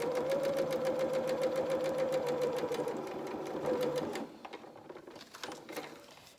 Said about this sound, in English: Then reverse stitch at the end.